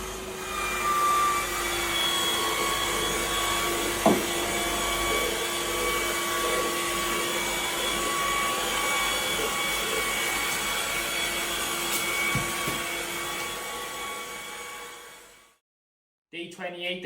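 A DeWalt cordless adhesive dispensing tool pushes panel adhesive onto a wall, giving a steady loud motorized whine and hum for about fifteen seconds before it stops abruptly.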